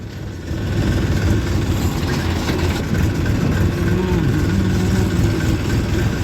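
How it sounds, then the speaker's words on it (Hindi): Mahindra 265 tractor engine idling at a steady, close, loud rumble that holds evenly throughout, with no speech over it. "एक और महिंद्रा 265 आ गया है।"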